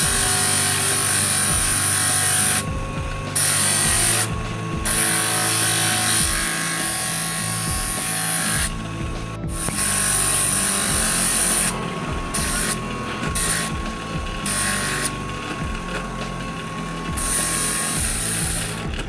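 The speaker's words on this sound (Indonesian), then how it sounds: "Langsung saja kita amplas di sini sahabat" A coconut shell ring being sanded with a power sanding tool, giving a steady abrasive whir that cuts out briefly in several short breaks and then resumes, with no talking.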